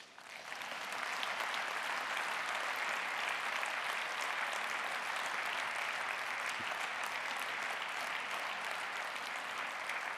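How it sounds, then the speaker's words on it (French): Sustained applause from a notaries' congress audience welcoming philosopher André Comte-Sponville to a round table, a dense, steady wash of clapping at moderate distance that swells in after the first second and holds evenly throughout. "je vous invite à accueillir par vos applaudissements Monsieur André Comte-Sponville"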